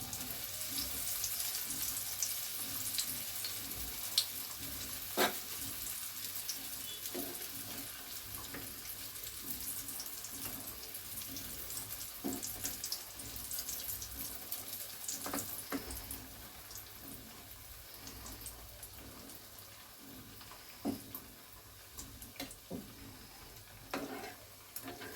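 Small pieces of a homemade dessert frying in hot oil in a pan, a steady close sizzle and crackle that runs continuously with occasional sharper pops and faint utensil taps.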